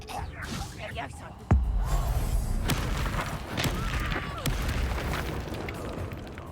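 A Confringo fire spell exploding in the Hogwarts Legacy video game, one sudden deep boom followed by a rumbling roar that slowly fades, with game voices and effects going on around it.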